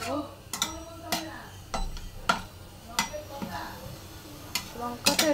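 A utensil stirs cloves, cinnamon and chilies in a hot pan, making intermittent sharp metallic clinks and scrapes against the pan over a faint sizzle in a quiet kitchen.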